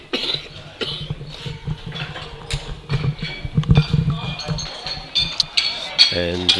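A spectator's cough at a women's masters powerlifting world championship, several short bursts heard indoors among clinking equipment and clatter, with people talking nearby.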